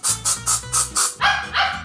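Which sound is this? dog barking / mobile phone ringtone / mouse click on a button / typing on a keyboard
dog barking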